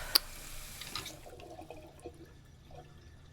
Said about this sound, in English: Beautiful water effect,